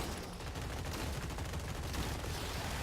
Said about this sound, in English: The machine guns are having a duel here.